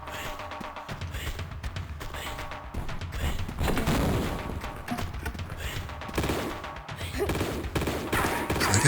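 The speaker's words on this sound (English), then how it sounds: "That guy's still shooting me." Enemy gunfire in Tomb Raider comes as scattered shots and bursts over a busy game soundscape, some louder cracks standing out among the rest.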